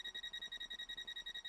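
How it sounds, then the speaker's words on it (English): A door warning alarm sounds in Train Simulator World, a steady, rapidly pulsing electronic beep with about ten even pulses per second and a bright, piercing tone, heard close and alone. "That's the alarm going off,"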